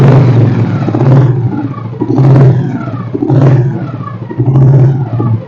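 Petrol Royal Enfield Bullet under restoration, its engine revved with light throttle blips, a loud, close thumping exhaust rising and falling in four or five regular surges.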